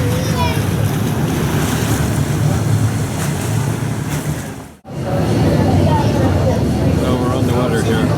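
Boat cruising on the Seine in Paris away from the Eiffel Tower, a steady rush of water and heavy wind buffeting the microphone, loud and continuous with a brief dropout partway through.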